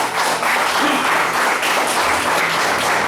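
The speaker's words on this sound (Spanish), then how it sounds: "Denle un aplauso al que vive y permanece." A church congregation claps and applauds together, a dense, loud burst of clapping sustained for a few seconds with no pause.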